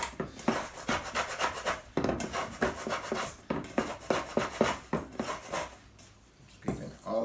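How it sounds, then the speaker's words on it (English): A plastic scraper drags bagel dough down the sides of a bowl in repeated rhythmic strokes, rasping and scuffing loudly and close at hand. "Scraping all those bits down at the bottom."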